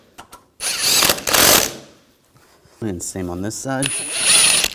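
Ratchet snugging down bolts on a 2004-2009 Audi A4 engine during a timing belt and water pump replacement, with two bursts of close, rapid clicking followed by someone talking.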